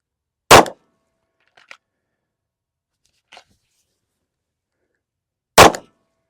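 Two loud, sharp handgun shots about five seconds apart, practicing a draw at an outdoor range, with a few faint clicks and shuffles of handling in between.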